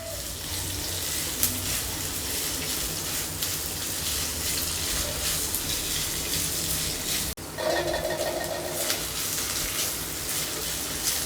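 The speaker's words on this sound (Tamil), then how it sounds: "இப்போ வெங்காயம் நல்லா வதங்கிடுச்சு." Sliced onions fry for poori masala, a continuous soft sizzle and crackle from the pan running throughout, with a brief clatter and a sharper burst of frying near the end.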